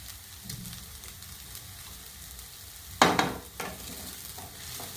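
Cooked quinoa being mixed in a pan, a soft steady sizzle with one sharp clatter of a spoon scraping and knocking the pan midway, followed by quieter stirring taps, close and without talk.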